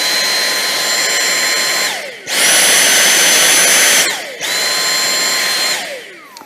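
A Dyson V6 Mattress cordless vacuum runs loud and steady with a high motor whine, switching up into a sharper, louder maximum power mode in the middle before dropping back to its standard, lower hum.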